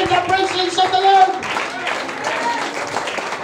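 Clapping from a congregation at a Filipino church preaching service, coming in under a sung or spoken voice at first and then continuing as a steady patter of many hands.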